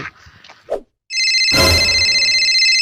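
Mobile phone ringing with an incoming call: after brief talk and a pause, a loud electronic ringtone starts and keeps sounding steadily and close, with a burst of noise near its start.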